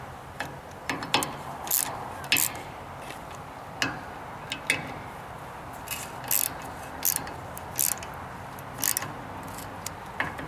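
A torque wrench ratchets while a gas tank bolt is tightened to spec on a lifted Mini, giving sharp, irregular clicks in short bursts over a quiet background.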